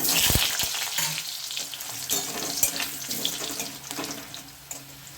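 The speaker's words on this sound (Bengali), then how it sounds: "এই আলুগুলোকে আমি এখানে একটু লাল করে ভেজে নিতে" Potatoes fry in hot oil for a vegetarian cabbage dish, a close crackling sizzle with sharp spitting pops and utensil knocks as the pieces are moved around the pan.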